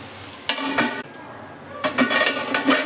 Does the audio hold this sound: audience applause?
no